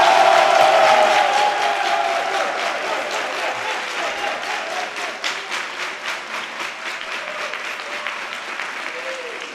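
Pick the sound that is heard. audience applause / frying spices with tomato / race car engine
audience applause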